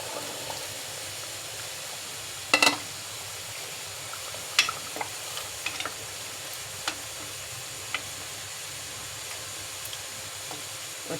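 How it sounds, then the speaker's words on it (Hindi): Boiled chickpeas going into a pot for Lahori chana, with a low steady sizzle underneath and a few sharp knocks and scrapes of a spoon against the pot, close up and without talk. "अब मैं इसमें डालने लगी हूँ चने।"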